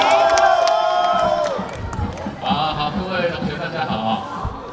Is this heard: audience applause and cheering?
yes